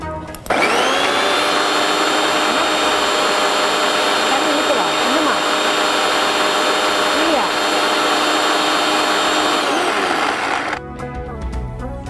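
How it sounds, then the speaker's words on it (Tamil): A mixer grinder grinds beetroot in a kitchen, a loud steady high-pitched motor whine holding for about ten seconds before cutting off. "இப்போ வந்து பீட்ரூட் நம்ம கிரைண்ட் பண்ணலாமா?"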